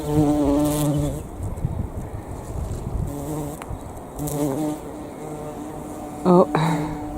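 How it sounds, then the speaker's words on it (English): A bee buzzes close by in a kitchen garden in early spring, a loud, steady droning hum that fades and returns, with a brief louder swell near the end as it moves off. "there's a bee at work somewhere. Can you hear it?"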